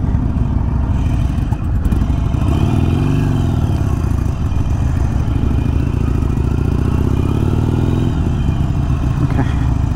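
A Harley-Davidson Iron 883 Sportster motorcycle engine runs at steady, loud throttle close by, its low rumble continuous with slight rises in pitch as it accelerates, with clatter mixed in and no talking.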